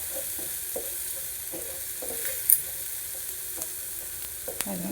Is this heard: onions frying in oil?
yes